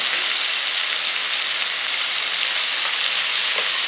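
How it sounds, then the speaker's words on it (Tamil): Chopped tomatoes and rock salt sizzle steadily in hot oil, a dense, even crackle that holds loud and close throughout with no voices. "போட்டு நல்லா வதக்கிடணும் இது எண்ணெயிலே நல்லா வதக்கணும்"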